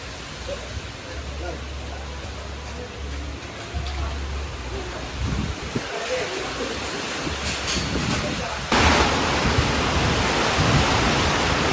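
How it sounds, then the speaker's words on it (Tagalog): Heavy rain pours down outdoors in a dense, steady hiss with no break, then jumps to a louder, fuller roar near the end as the downpour strengthens. "Grabe po kalakas ng ulan."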